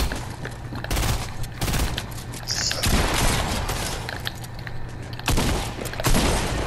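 SMG fire crackles in a Fortnite duos match. Loud, rapid bursts come in overlapping volleys with brief gaps between them, and no voices are heard.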